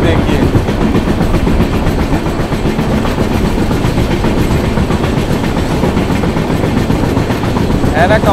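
Garib Rath Express, the Bangalore–Kochuveli train, running on its tracks through Kerala, heard from inside a coach as a steady, loud rumble with continuous wheel clatter throughout.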